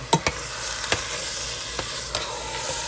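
Sausage, onions and peppers browning in a pan for lasagna, with a steady close sizzle and a few sharp knocks and scrapes of stirring, no talk.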